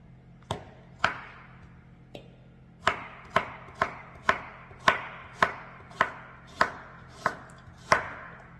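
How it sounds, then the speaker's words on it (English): Knife chopping carrots, slightly soft ones, on a board: about a dozen sharp, distinct chops at a fairly steady rhythm, close and clear with no talking. "They're chopping a little,"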